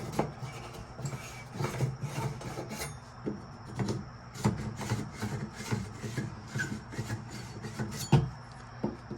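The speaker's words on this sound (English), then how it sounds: "Now we gotta deburr it, you follow me?" A deburring tool scrapes the cut end of an old copper pipe in steady, rhythmic rasping strokes, close and moderately loud, with no voices.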